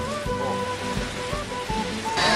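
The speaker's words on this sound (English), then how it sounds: "then it just started pouring all of a sudden" Heavy rain comes down suddenly outside a small grocery store in the Galapagos, a dense steady roar of falling water with faint tonal murmurs and soft thumps mixed in beneath it.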